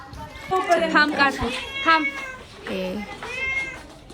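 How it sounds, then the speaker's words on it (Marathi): A pet cat meows close by during a home voice recording, several drawn-out, wavering meows in a row with brief pauses between them, loud and near. "आमचं मांजर माझ्या जवळ आहे. त्याचा पण आवाज येत आहे"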